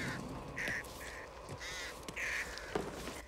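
Repeated crow caws in the game Back 4 Blood, several harsh calls in short bursts spread across a few seconds, fairly loud over a low game background rumble.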